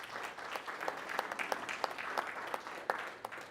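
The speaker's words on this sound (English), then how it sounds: "Give yourselves a round of applause for profitability." An audience claps at a business talk, a moderate, uneven patter with sharper individual claps poking through, heard at some distance and fairly soft.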